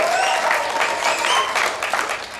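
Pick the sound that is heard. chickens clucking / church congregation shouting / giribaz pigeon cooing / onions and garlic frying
church congregation shouting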